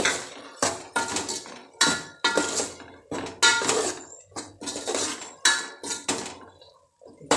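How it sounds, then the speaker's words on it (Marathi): Boiled peanuts tipped into a pan of onion and coconut paste and sautéed for a Konkan-style alu fatfata, with repeated clattering scrapes and clinks of a utensil against the pan, close and fairly loud. "आता त्याच्यात जे शेंगदाणे उकडले ते घालूया,"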